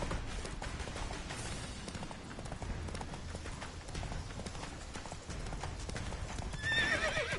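Roach, the horse in The Witcher 3 video game, gallops with a rapid, steady clip-clop of hooves under a loud game soundscape, and a whinny rises near the end.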